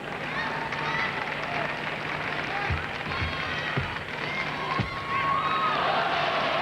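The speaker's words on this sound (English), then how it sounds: "as you hear that crowd, they are really into this competition" Arena crowd at the 1999 World Gymnastics Championships women's team final, a steady dense roar of cheering and applause that sits loud and continuous, with a few sharp claps and thumps standing out near the middle.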